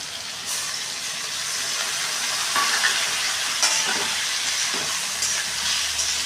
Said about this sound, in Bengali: আমি মশলাটা এর মধ্যে ছেড়ে দেবো। সামান্য একটু জল দেবো, গরম জল, নট ঠান্ডা জল।